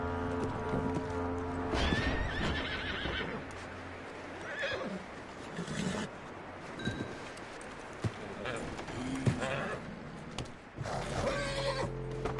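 Horse neighing and whinnying in Red Dead Redemption 2, with clip-clopping hooves, several loud whinnies spread through the stretch over steady game background and voices.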